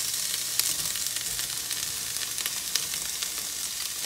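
Onions and peppers fry in a hot skillet, a dense, even hiss and crackle of sizzling held steady throughout, close and fairly loud with a few small pops and no voices.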